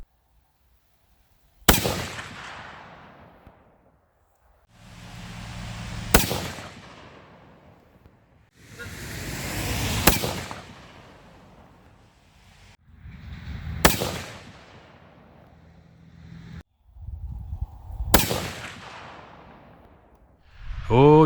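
Precision rifle gunshots at an outdoor shooting range, five sharp, loud cracks spaced several seconds apart, each trailing into a rumbling echo, with faint talk between shots.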